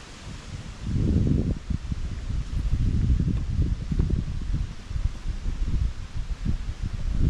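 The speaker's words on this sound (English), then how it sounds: "Wind." Gusty wind blows outdoors on the water during kayak fishing on a hot day, a loud, continuous low roar of buffeting against the microphone that swells in waves throughout, with no talk.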